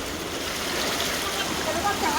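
Heavy-rain floodwater running knee-deep through a neighbourhood street in Virudhunagar like a river, a steady, dense rushing wash close by, with a faint voice briefly above it.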